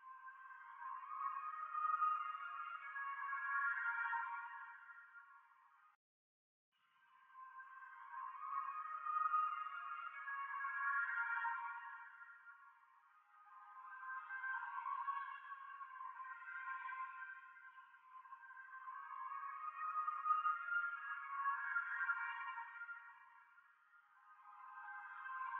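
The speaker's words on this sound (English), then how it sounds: "I got the same one, pitched it up and reversed it so it sounds like this." Vocal sample pitched up and reversed with lo-fi processing for a dark RnB beat, repeating smeared, airy phrases in a looping pattern with a short gap near the start, fairly quiet and without any other sounds.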